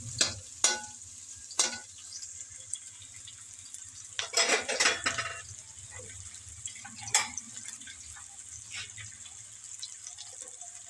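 Onions brown in a pan for chana pulao, a soft sizzle beneath occasional scrapes and clinks of a spoon stirring against the metal, with faint background hum.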